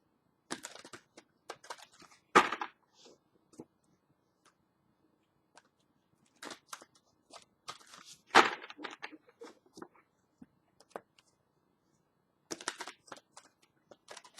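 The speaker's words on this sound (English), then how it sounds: "just give me a few minutes, please, to shuffle the cards" Close, quiet tarot card shuffling in short bursts of soft riffles and taps, separated by silent pauses.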